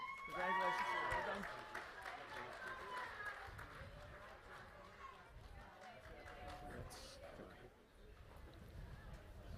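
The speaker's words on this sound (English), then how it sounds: "Please have a round of applause for our Master of Science in Human Genetics and Genetic Counseling graduates" Crowd applauding Master of Science in Human Genetics and Genetic Counseling graduates at a pharmacy and health sciences commencement, a steady wash of distant clapping running throughout, with a voice speaking briefly over the start.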